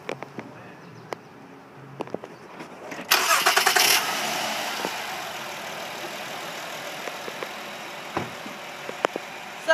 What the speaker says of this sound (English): I'm going to pop the hood for you and start her up so you can hear the motor.